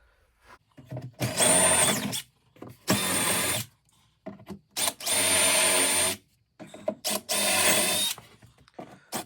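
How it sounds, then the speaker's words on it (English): A power drill whirs in four loud bursts of a second or two each, drilling pilot holes through a model railway baseboard, separated by short quiet pauses, close by. "I'm just now starting to drill the pilot holes"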